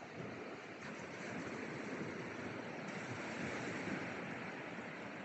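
Steady roar of sea waves washing in, broad and continuous, with some wind noise buffeting the microphone throughout.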